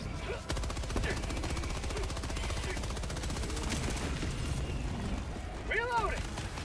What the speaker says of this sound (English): Requesting air support. Strafing run.